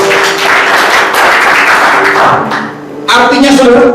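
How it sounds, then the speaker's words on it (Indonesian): A church congregation claps at a Sunday worship service, steady applause that fades briefly and then returns, with a voice speaking over it and a musical tone at the end. "Boleh katakan tepuk tangan buat Tuhan."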